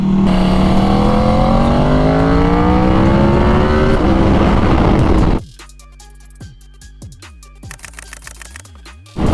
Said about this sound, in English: First session on this incredible 2022 RSV4 1100 base model.